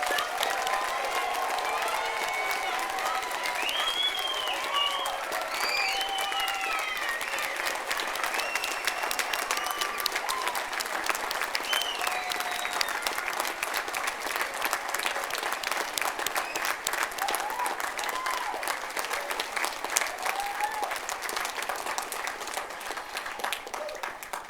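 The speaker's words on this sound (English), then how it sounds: "Please everyone now give our new graduates a huge round of applause." Sustained applause from a large audience greeting new graduates at a Charles Sturt University graduation ceremony, dense steady clapping with scattered cheers throughout, loud and continuous.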